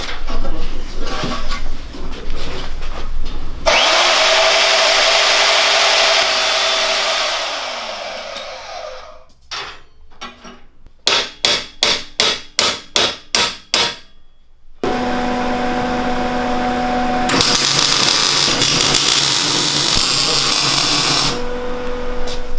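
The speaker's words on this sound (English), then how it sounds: "this one won't throw sparks, it's just a bandsaw" A loud bandsaw cutting metal whines steadily, cuts off, then a burst of rapid rhythmic knocking follows before the saw starts up again and runs on.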